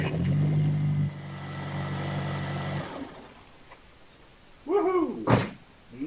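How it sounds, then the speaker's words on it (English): Car engine cranking steadily for several seconds on power from a supercapacitor bank rather than a battery, a whirring starter drone that cuts off, followed by a few clunks and faint voices. "Let's see if we can start a car with it."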